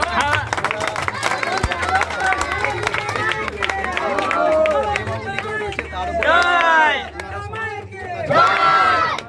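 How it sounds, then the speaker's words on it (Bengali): Audience applause at an environmental award ceremony, a crowd clapping amid babble while loud speech-like voices run over it, with bursts of cheering toward the end. "হাততালি।"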